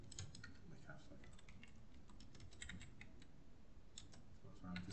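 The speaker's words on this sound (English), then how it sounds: "What's wrong with this keyboard?" Computer keyboard typing in irregular bursts of clicks, fairly quiet over a low background hum, with no voices.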